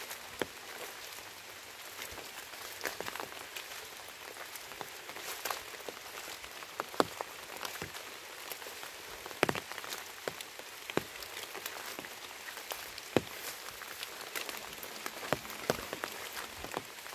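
Rain falls steadily in a forest as a soft, even patter, with scattered louder drops striking leaves and surfaces throughout and no voices.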